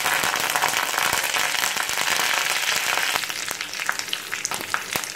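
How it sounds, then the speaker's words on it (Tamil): Mustard seeds and urad dal crackle and sizzle in hot oil for rose-petal chutney, a dense, steady frying hiss with sharp popping seeds throughout, close up and without voices. "இப்போ இதில் கடுகு உளுத்தம் பருப்பு போட்டுடலாம்."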